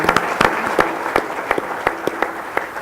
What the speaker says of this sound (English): Y'all can applaud Matt and welcome him.